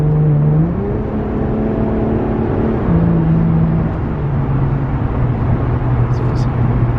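A muffler-delete Infiniti Q50 growls steadily from inside the cabin on a late-night drive, its low exhaust drone rising and falling with throttle changes, while a voice talks over it.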